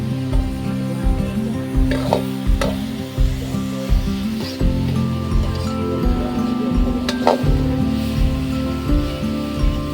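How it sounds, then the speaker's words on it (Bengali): Cabbage, potato and egg frying in oil in a pan, a loud close sizzle with repeated scraping stirs in an uneven rhythm, plus a few sharp clinks, no talking. "বাঁধাকপি, আলু, ডিম লাবৰা হৈ আছে, এইটো ফ্ৰাই চলি আছে"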